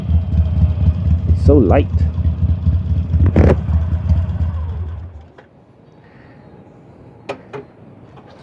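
A Harley-Davidson 883 idling with a low, steady engine rumble for about five seconds while being reversed into a parking spot, then cutting out to quiet; a person speaks briefly over the engine.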